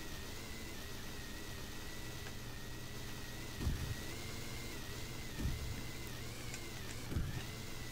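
A snowmobile's 800cc engine in the racing game Sled Storm holds a steady, faint drone, with a few low thumps from impacts spaced through the run.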